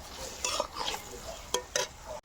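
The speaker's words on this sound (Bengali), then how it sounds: "যেহেতু কাজু বাদাম দেওয়া আছে তার জন্য কিন্তু অনবরত এইভাবে নাড়িয়ে যেতে হবে" A spoon stirring and scraping spiced masala with cashews in a pan, several distinct close scrapes and clatters over a soft background sizzle, ending abruptly.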